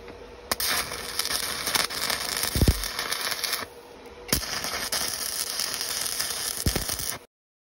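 Tack welding on metal for a homemade brake press, a crackling buzzy arc in two sustained bursts with a short pause between and a couple of sharp clanks, close and fairly loud, no talk.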